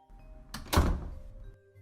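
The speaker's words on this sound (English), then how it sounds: "Blushing heavily, you closed the door." A door swings shut with a single soft, solid thunk in a quiet room, preceded by a brief rustle of movement.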